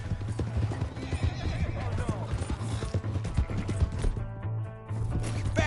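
A horse in a video game gallops with quick, close clip-clop hoofbeats and lets out a loud whinny, set against a steady low background hum and game effects.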